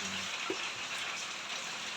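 Steady rain hisses evenly throughout, a constant wash of drops with no talking.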